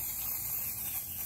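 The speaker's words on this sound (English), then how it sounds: "I spray it down with some chrome paint." Chrome spray paint hissing steadily from an aerosol can onto a 3D-printed Darksaber replica, a constant close airy spray with no pauses.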